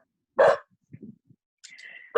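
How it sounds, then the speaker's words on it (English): A dog lets out a single sharp, loud bark, followed by a few soft snuffling sounds and a short high whine, then starts into another bark at the very end. "Sorry, dog's going mad."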